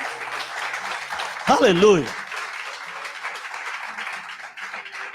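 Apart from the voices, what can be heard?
church congregation applauding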